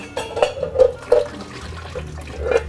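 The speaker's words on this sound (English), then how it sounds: "now that our eggs have been sitting for a while in the hot water, we're going to drain the hot water off" Hot water drained off boiled eggs in a kitchen, pouring and splashing in uneven bursts with light clinks from a pot, close and moderately loud with no talking.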